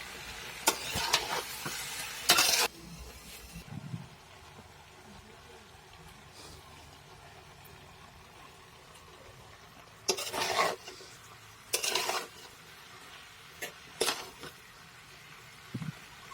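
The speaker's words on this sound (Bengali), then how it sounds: "কিছু সময় পর পর এভাবে লাড়তে হবে" A spoon stirs mixed vegetable bhaji in a pan, scraping in several short bursts spread across a quiet background of low sizzling.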